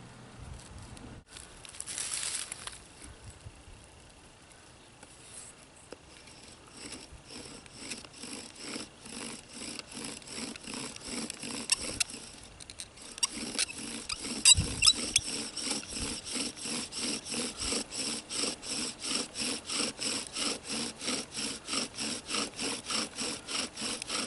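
Bow drill spinning a spindle against a wooden board to make fire, a fast rhythmic back-and-forth rasping that starts faint and irregular, then steadies and grows louder into regular strokes, close and without talk.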